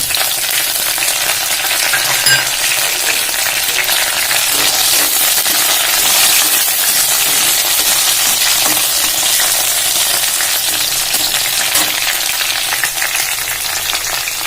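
Curry leaves and green chillies sizzle in hot oil in a pan over a low gas flame while being stirred, a loud, steady, crackling hiss that runs on evenly with no voices.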